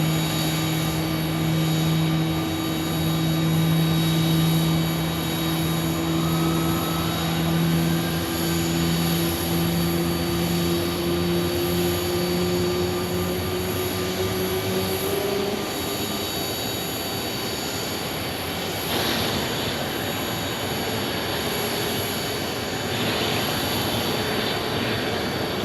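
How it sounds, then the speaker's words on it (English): Jet airliner turbines spool up at Phoenix Sky Harbor airport, a broad steady roar with rising whining tones that climb and fade over about half a minute, moderately distant and heard alone. "Turbines spooling up there."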